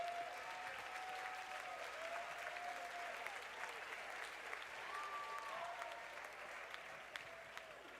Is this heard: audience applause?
yes